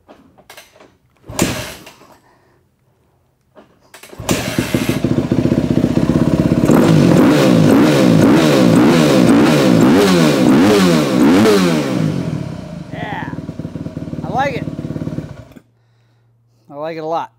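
A dirt bike engine is kicked over after fork seal work, catching and revving repeatedly in sharp rising bursts before settling to a burbling idle; clanks and a few spoken words surround the start.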